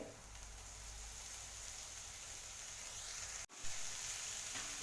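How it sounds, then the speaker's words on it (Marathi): Steady soft sizzle of finely chopped fenugreek frying in a pan with sautéed garlic, green chili and onion for a spicy methi thecha, a continuous low hiss with one brief break and no talk. "लसूण मिरची कांदा व्यवस्थित परतून घेतला बारीक चिरलेली मेथी यामध्ये टाकते"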